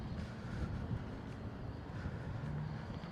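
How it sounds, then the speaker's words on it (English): Steady outdoor wind rumbles and buffets a handheld microphone, low and continuous throughout with no pauses and no talking. "Ooh, that wind."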